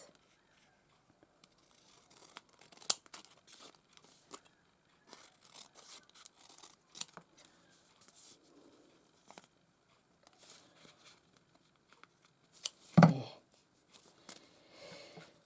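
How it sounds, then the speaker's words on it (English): Paper edges are trimmed by hand while making a vintage-style floral journal, giving quiet, scattered snips and rustles close by, with a brief louder crinkling burst near the end. "And then I'm just going to trim the edge of it up so they're all about the right width."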